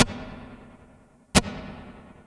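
Two sharp plucked strums of an acoustic guitar through a NUX AC-25 acoustic amplifier with its reverb engaged, each attack followed by a long, fading wash of tail.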